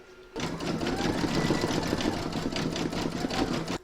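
A sewing machine stitching a puffy foam keyring with yellow thread, running fast and steady with a close mechanical whir and rapid needle clatter that starts abruptly and stops at the end.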